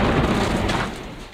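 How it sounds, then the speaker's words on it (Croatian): A nearby explosion close to a rear medical base near Chasiv Yar in eastern Ukraine, heard as a loud, broad rumbling boom that fills the short stretch and slowly fades toward the end. "Eksplozija u blizini."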